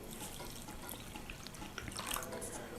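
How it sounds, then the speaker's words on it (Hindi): Water poured into a bowl of semolina for soaking, a soft steady trickle and splash heard close up with faint background hiss and no talking. "इसके बाद इसमें थोड़ा सा पानी ऐड कर देंगे"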